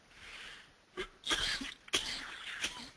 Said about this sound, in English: Excuse me, to start coughing.